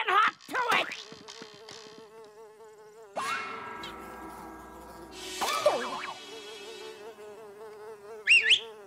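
Cartoon mosquitoes buzz in a swamp, their whining drone rising and falling in pitch as they circle close, with occasional squeaky sound effects and no talk.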